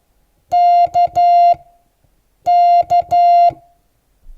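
Keyer-sent Morse code with 3-to-1 weighting: a steady pure tone keyed into two groups of long dahs and short dits, the dahs clearly heavier than the dits, loud and clean against silence.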